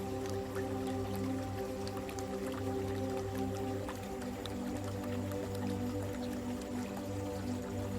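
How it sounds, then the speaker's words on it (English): A gently flowing babbling brook in a secluded natural setting, with soft continuous drips and trickles over a steady low hum, quiet and even throughout. "a serene, secluded place by a gently flowing brook, nestled in the heart of nature"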